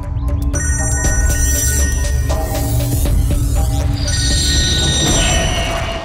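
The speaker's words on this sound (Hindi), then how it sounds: "हाँ दया, मुझे मालूम है तुमने फोन किया है।" A telephone rings steadily with bright repeating tones over a loud, constant low rumble, in a TV crime drama scene, no voices heard.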